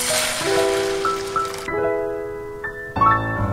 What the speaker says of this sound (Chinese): 炒至起沙就可以加入清水了